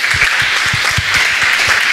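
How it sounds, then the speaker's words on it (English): Audience at a Birmingham music-industry panel event applauds the panelists, with brisk, continuous clapping, fairly close and loud throughout. "I'd like you to give a round of applause to Scully, Jack Bagshaw, SHIAMA Young, and THEO Johnson"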